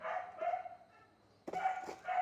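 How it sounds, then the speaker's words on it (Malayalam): A neighbour's dog barks from a house next door, a few sharp, fairly close woofs in two bursts separated by a short lull. "അപ്പുറത്തെ വീട്ടിലുള്ള പട്ടി എപ്പോഴും അത് ഇങ്ങനെ തന്നെ കേട്ടോ"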